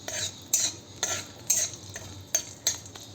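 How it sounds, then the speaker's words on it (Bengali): A spoon scrapes and taps in a pan as whole spices fry in hot oil, about six sharp metallic clinks spaced at irregular intervals over a soft, low sizzle. "তেলটা মোটামুটি গরম হয়ে গেছে, আমি এখানে দিয়ে দিলাম গোটা মশলাটা। এটাকে একটু ভাজা ভাজা করে নেব।"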